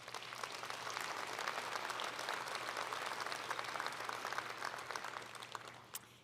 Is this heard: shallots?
no